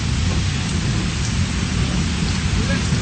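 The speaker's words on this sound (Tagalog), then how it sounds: "Umuulan na po." Steady rain pours down with a low rumble of thunder rolling underneath, a dense, constant hiss throughout.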